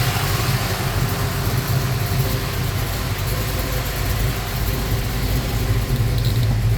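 A Ford Falcon's small-block 302 V8, tuned lean, idles in gear with a loud, steady low rumble and a slightly uneven throb, continuing without a clear break.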